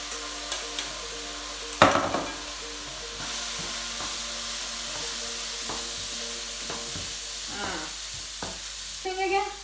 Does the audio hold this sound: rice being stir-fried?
yes